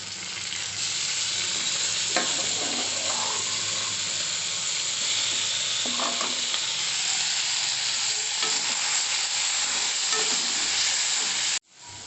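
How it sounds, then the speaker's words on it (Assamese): Chopped onions and tomatoes frying in a pan while being stirred: a loud, continuous close sizzle with occasional scraping stir strokes, cutting off abruptly near the end. "এতিয়া দিম পিঁয়াজখিনি, কাটি থোৱা পিঁয়াজখিনি দি দিলোঁ। এতিয়া বিলাহীখিনি দি দিম।"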